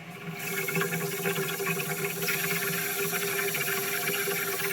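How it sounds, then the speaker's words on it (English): A steady, close hiss of fuel churning and bubbling from an air purge inside the tank of a Honda EZ1800 generator that won't start, continuous throughout with a faint mechanical hum beneath. "You should be able to hear the fuel bubbling inside of there."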